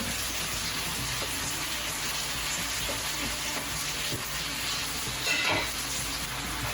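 Garlic fries in a pan with a constant crackling sizzle, steady and fairly close, broken briefly by a soft stir or shift of the pan near the end, with no talking.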